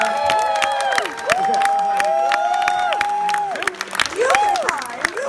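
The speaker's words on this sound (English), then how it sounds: "A round of applause. Come on, Dylan." A fan-convention panel audience claps and cheers for a young boy named Dylan, a short burst of applause with whoops and excited shouts rising over it, while someone talks loudly and warmly.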